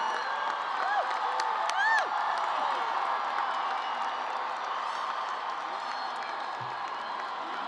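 Graduating-class audience at a San Francisco State University 2024 commencement applauding and cheering, a broad sustained roar of clapping with whoops and shouts rising early, then settling into steady distant applause.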